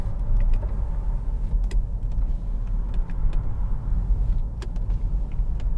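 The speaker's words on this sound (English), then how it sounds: "Electric window switches here" Electric windows on a 2013 Jaguar XF 2.2 TD Premium Luxury run with a steady, low motor whir, joined by scattered sharp clicks and creaks from the switches and glass, and no talking.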